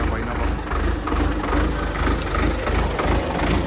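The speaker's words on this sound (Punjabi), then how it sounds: "ਟਰੈਕਟਰ ਦੀ ਆਵਾਜ਼ ਕਰੋ ਚੈੱਕ ਆਵਾਜ਼ ਬਹੁਤ ਜ਼ਬਰਦਸਤ ਆ ਟਰੈਕਟਰ ਦੀ" An Indofarm 4x4 tractor's four-cylinder engine idles nearby with a loud, pulsing low rumble that swells and dips slightly over a few seconds.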